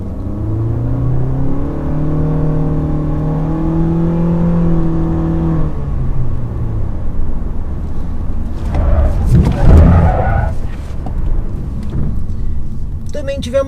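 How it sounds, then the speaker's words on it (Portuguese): Honda HR-V 2019 in Sport mode running a road handling test at steady speed, a continuous engine drone and tyre rumble with rising and falling tonal whine, followed by rougher bursts of road and wind noise toward the end. "Agora vamos fazer o teste aqui com o Honda HR-V"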